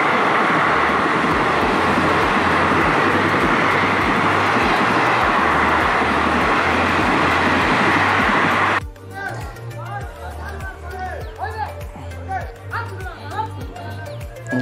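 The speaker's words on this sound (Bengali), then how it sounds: "তেভাগা এক্সপ্রেস যাচ্ছে, তেভাগা" The Tebhaga Express passes close by, a loud, steady rumble with rhythmic clickety-clack of wheels on rails that cuts off suddenly and gives way to quieter background sound and voices.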